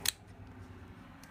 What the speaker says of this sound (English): You're just going to insert your scissors down in there and cut.